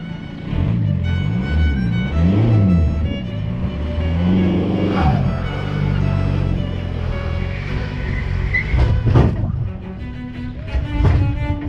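A car's engine labours steadily under load while hauling a boat out of the water, a continuous low drone that swells and strains throughout, with a few voices faintly mixed in.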